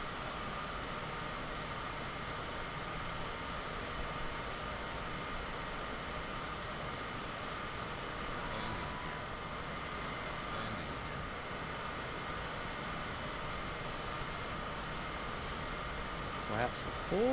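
Steady airplane engine drone from a flight simulator game, cruising at about 300 knots, a constant broadband hum running throughout with a brief faint chirp near the end.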